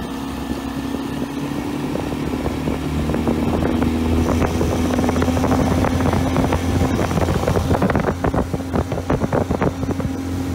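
A small fishing motorboat cruising steadily at about 33-35 km/h across open water, its outboard engine droning loud and continuous, with wind buffeting the microphone and waves slapping the hull.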